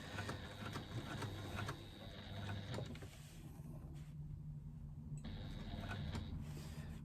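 Sewing machine stitching faux leather to foam with an eighth-inch seam allowance and cream thread, a steady close mechanical whirr and rattle running throughout with brief pauses and restarts.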